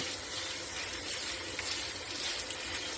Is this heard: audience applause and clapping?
no